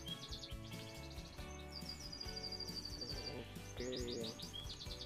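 Canaries chirp in quick repeated trills and whistles over a dense, continuous background of other sounds.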